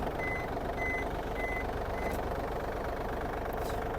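A Yanmar FX-255 Japanese mini tractor idles with a steady engine hum while its reversing alarm gives four evenly spaced short, fairly faint beeps.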